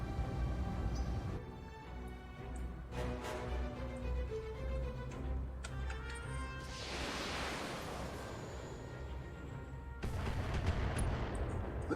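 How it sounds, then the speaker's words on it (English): Turret bombardment in the mech strategy game BattleTech, distant booming impacts and crackling blasts amid ongoing game effects, with a broad rushing burst midway. "Looks like they have a turret or something that's still bombarding me from far."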